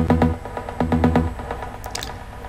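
Bright detuned trance pluck from the first oscillator of a Spire software synth, playing a quick run of short, repeated notes with delay and reverb trails, up front and alone, followed by a few faint clicks.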